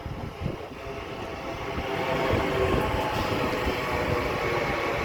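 A Class 331 train, unit 331-103, passes at Guiseley, its rumble and rail noise swelling steadily over a few seconds to a sustained roar.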